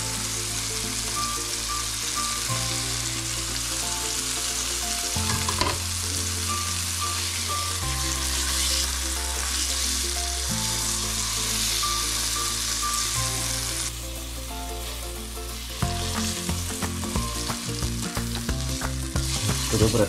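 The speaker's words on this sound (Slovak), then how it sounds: "To dobre orestujeme" Onion fries in a pan for mäso na kyslo, a Slovak meat dish in sour cream sauce, sizzling continuously at close range while a spoon stirs and scrapes through it in uneven bursts.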